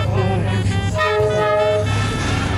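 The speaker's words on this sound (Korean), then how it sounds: "자, 기차 지나갑니다." Loud train rumbling past up close in central Hanoi, with a steady droning roar and a sustained horn-like tone over the top.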